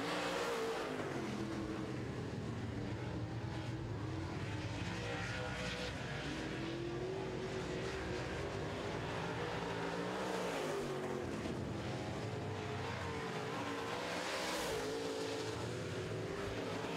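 Late model race cars roar around a racetrack during a heat race, a continuous layered engine drone rising and falling as the cars pass at a moderate distance.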